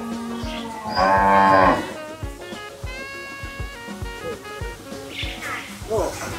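White bule cattle, including a bull, gather on a farm and give loud, close moos, with one long drawn-out call near the start and shorter lowing after it, under frequent talk from people nearby.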